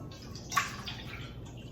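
Two cups of milk are poured into a bowl for waffle batter. A soft, steady liquid trickle runs close by with a brief splash near the start, fairly quiet and with no talking.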